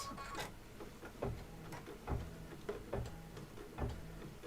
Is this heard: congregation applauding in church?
no